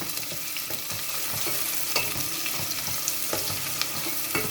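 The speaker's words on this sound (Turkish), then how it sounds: "Soğanın kokusu çıkana kadar kavuruyorum." Steady sizzling of onions frying in hot olive oil, with occasional soft stirring clicks and scrapes, close and continuous.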